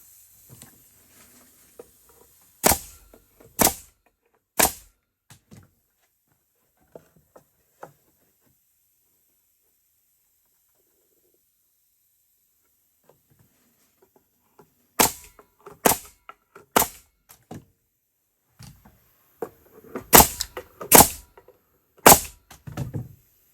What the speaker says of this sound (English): got the compressor pumped up and we'll get it nailed together here